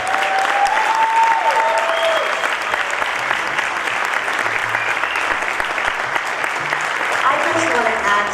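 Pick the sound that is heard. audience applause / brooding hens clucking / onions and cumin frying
audience applause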